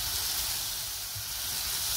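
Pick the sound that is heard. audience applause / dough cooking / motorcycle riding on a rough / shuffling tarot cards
dough cooking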